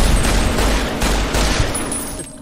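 Sustained gunfire in a post-apocalyptic wasteland shooter, a dense, loud burst of overlapping shots that keeps rattling throughout with no pause.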